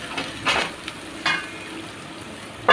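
Tomato chutney stirred in a pan, a soft frying sizzle broken by a few scraping spoon strokes, close and fairly quiet with no voices.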